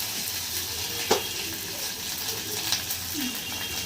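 Ginger garlic paste fries in a pan with a steady, close sizzle, broken by a couple of brief utensil clicks.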